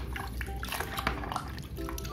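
Water splashes and drips off a plastic toy being rinsed clean, a steady wet clatter with faint knocks of the toy against a hard surface, close and fairly loud, with no talking.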